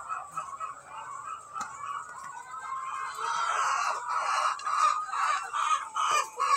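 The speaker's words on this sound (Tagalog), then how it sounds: "Hello, mga chicken!" A flock of backyard chickens clucks and chatters close by, with a rooster crowing, the busy poultry calls growing denser and louder toward the end.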